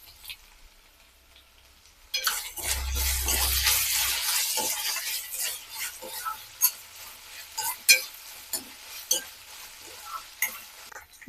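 Onions sizzle and fry loudly in a hot pan with ginger garlic paste and curry leaves, with a spoon stirring and scraping in an irregular rhythm of clinks over the continuous frying hiss.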